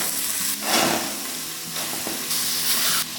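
Tandoori chicken pieces cooking without oil in a covered cooker set to 200 degrees, giving a steady close sizzle and hiss with brief louder bursts of frying noise.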